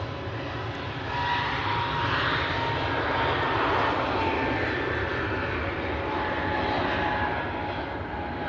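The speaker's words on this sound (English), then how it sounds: "EasyJet now on the roll." An EasyJet jet airliner rolls for takeoff at Manchester Airport, its engine roar swelling after the first second into a loud, sustained rumble that holds steady to the end.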